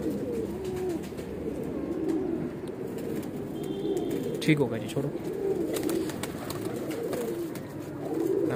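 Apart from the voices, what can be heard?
pigeons cooing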